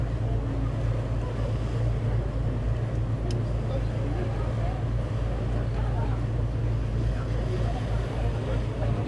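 Water taxi boat engine droning steadily at sea off a rocky coast, a constant low hum with wash and wind noise throughout, a voice talking over it.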